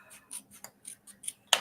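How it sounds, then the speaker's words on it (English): A quick series of crisp snips as paper is cut, ending in one sharper, louder snip, close and clear against quiet surroundings. "we can take our snips and just cut that right on out"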